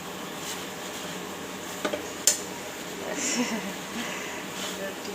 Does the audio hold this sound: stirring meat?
yes